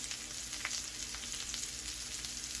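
Pork chops sear in a hot pan before going into a 400-degree oven, giving a steady, close sizzle and crackle that holds even throughout with no talking.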